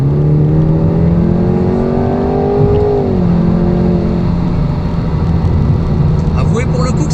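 A 2.0-litre Jaguar F-Type P300 in sport mode accelerates hard, its engine note climbing steadily and then dropping at a gear change before pulling on loudly and close.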